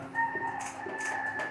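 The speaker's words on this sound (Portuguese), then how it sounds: "tem um galo cantando aí." A rooster crowing at a distance, its drawn-out call fairly faint against a steady background hum, with a few soft broadband bursts of noise around it.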